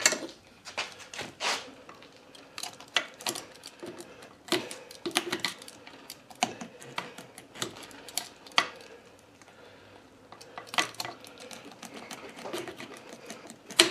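A Ford Edge motor mount is being cut by hand. Irregular sharp metallic clicks, scrapes and clanks come in uneven bursts, close and fairly loud, with short quiet gaps between them.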